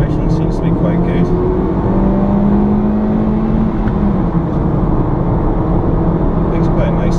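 2012 Kia Cee'd TX 1.4 MPI four-cylinder engine pulling up through the revs on a bypass, a steady in-cabin drone with a rising then falling tone beneath road noise, while someone talks over it.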